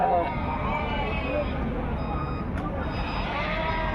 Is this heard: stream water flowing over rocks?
no